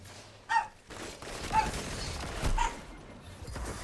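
A dog barks three times, spaced about a second apart, over a steady low background hum. The barks are moderately close and there is no talking.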